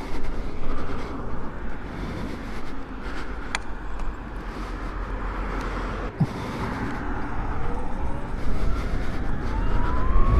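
A Can-Am Pulse 11 kW electric motorcycle pulls away gently, its faint motor whine rising in pitch over loud, steady wind and road rumble, with no engine noise.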